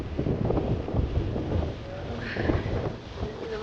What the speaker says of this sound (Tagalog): Narinig niya naman siguro yung hangin.